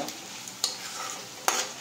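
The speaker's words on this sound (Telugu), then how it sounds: "ఇప్పుడు ఈ తాలింపు తీసుకెళ్ళి ఆ పచ్చట్లో కలిపేద్దాం" Hot tempering is poured into a ground raw mango chutney and stirred in, giving a soft sizzle with two sharp scraping clacks of the spoon against the bowl, close and alone.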